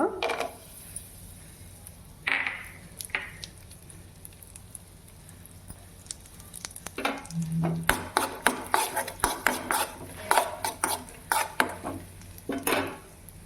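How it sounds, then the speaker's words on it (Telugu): Raisins fry in a pan alongside almonds for poha laddu, with a faint sizzle and a run of quick metallic scrapes and taps of a spoon stirring against the pan. "చూడండి ద్రాక్ష అంతా వేగింది"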